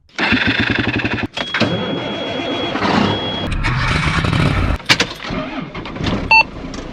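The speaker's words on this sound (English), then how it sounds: "Driving the tractor to work. Well, to the field." A farm tractor on its way to the field, engine running loud and steady with clattering and rattling from the cab, and a brief warning beep near the end.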